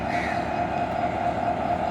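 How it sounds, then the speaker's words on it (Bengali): Porjotok Express behind a 3000 series locomotive, number 3006, gives off a steady loud rumbling drone with a sustained mid-pitched tone, close by and continuous for the whole stretch. "এই যে হচ্ছে আজকের লোকোমোটিভ 3000 সিরিজের 3006।"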